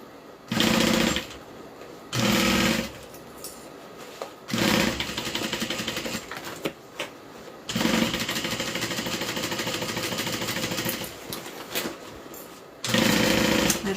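A sewing machine stitches a Butter Bags Kiana bag, running in loud bursts of rapid motor whirring separated by short pauses, with one long continuous run of stitching in the middle.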